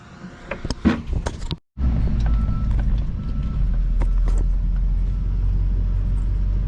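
A four-wheel-drive pickup truck out at a corn harvest field, its engine rumbling low and steady close by after a few brief knocks and a short cutout at the start.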